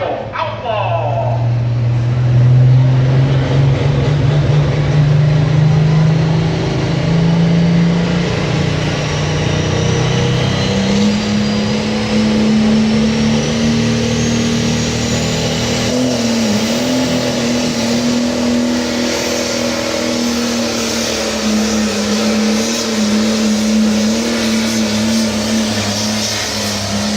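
International 1066 pro stock tractor roaring at a tractor pull, a loud sustained engine drone that climbs in pitch and holds steady throughout, with an announcer talking over it.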